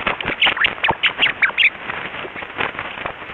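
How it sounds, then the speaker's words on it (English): Rapid, chirpy squeaks and chatters from a rat being tickled on its back, lowered in pitch to human hearing, sounding like quick quacking bursts over a hissy background. "here's the sound a rat makes if you tickle its back"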